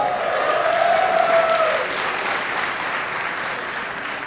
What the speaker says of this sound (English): That was sort of a shameless applause line that I went for there.